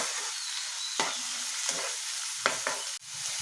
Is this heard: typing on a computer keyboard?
no